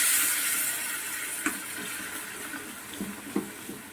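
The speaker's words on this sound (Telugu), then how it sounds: "ఇందులో కొంచెం వాటర్ వేసేద్దాం." Water pours into a pan of mango curry in a steady rushing stream, fairly close, with a few soft knocks of the pan and no voices.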